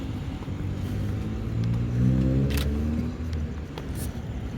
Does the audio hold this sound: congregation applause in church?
no